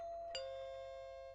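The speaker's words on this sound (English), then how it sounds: "Ah, the sound of my doorbell." A single electronic doorbell chime rings out clearly and lingers as a sustained tone in a quiet room.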